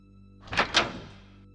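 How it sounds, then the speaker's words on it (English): A hotel room door, tried with a key card, opens suddenly: two sharp close thunks of the latch and handle in quick succession, then a short fading rattle, with no talking. "the door suddenly opened."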